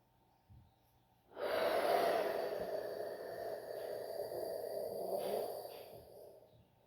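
One long, deep exhale during a slow breathing exercise, heard close and soft: a brief intake, then a sustained breathy rush of air that tapers off, with no talking.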